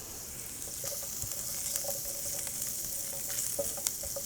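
Onions hit melted butter in a pan, setting off a steady, close sizzle and crackle with small pops and scattered clinks throughout, no voices.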